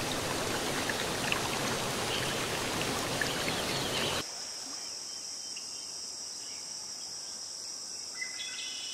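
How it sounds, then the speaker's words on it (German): The Rench, a stream flowing in front of a house in a long side valley at Bad Peterstal-Griesbach, gives a steady broadband rush for about four seconds before cutting to a quieter bed of high insect chirping. "Vor dem Haus fließt der Bach, die Rench."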